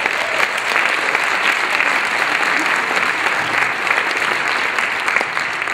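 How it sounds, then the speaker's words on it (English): An audience at a 2014 State of the Schools address applauds the choir in a sustained, dense round of clapping that holds at a steady, loud level throughout, with faint crowd murmur mixed in. "Can we give them another round of applause?"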